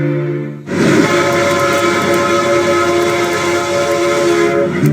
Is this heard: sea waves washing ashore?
no